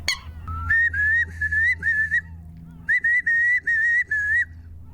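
A hunter's bird whistle blown in clear, high, warbling phrases that imitate a curlew's call, two bouts of repeated notes close to the listener with a brief pause between.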